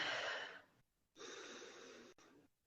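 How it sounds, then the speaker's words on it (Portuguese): Deep breathing during a guided meditation: two long, soft breaths, each nearly a second or more with a brief pause between, close and alone. "Vamos respirando profundamente."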